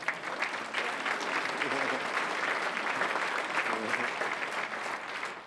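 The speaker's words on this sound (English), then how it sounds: "Round of applause for Kesha." A dense, continuous wash of audience applause for Kesha fills a lecture hall, holding steady for several seconds with a few voices faintly mixed in.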